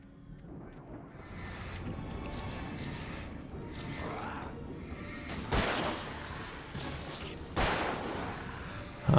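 Gunshots in the video game Alan Wake: three sharp, loud reports spaced a couple of seconds apart, standing out over a rumbling, whooshing game ambience.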